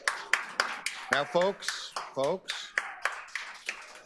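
Scattered audience applause at a city council meeting, uneven claps and taps rising around a voice as he speaks into the chamber microphone.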